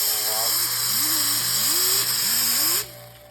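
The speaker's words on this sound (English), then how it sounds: "So we're just gonna give these a little touch up with Scotch-Brite." A small rotary tool spins a Scotch-Brite disc against a starter solenoid terminal, whirring loudly and rising and falling in pitch as it touches the metal, then spinning down near the end.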